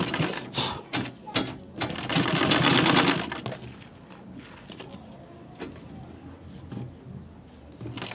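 A sewing machine top stitches a zippered carry bag, whirring in quick short bursts at first, then running in one steady loud stretch before dropping to a low hum with faint handling noises.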